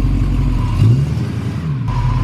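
A Ford Mustang's engine rumbles loudly and steadily up close as the car backs into a driveway, with a brief rise in engine note partway through.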